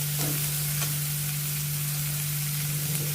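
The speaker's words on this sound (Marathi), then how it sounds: "ढोबळी मिरची आपल्याला चांगली परतून घ्यायची आहे." Finely chopped bell pepper sautéing in a pan, a steady even sizzle with a few faint stirring touches over a low electrical hum, no voices.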